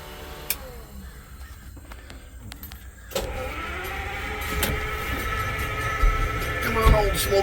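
A Detroit Diesel engine in a 1975 Corvette is cranked: a low idle hum, then a louder, steady grinding rush of cranking from about three seconds on, close by, with no talk.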